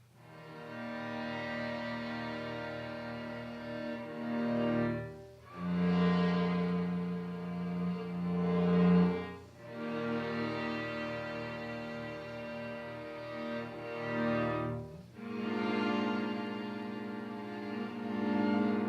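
A string quartet sustains long, expansive chords in a classical movement, full harmonies swelling and fading in broad phrases of roughly five seconds each, with no talking over the playing.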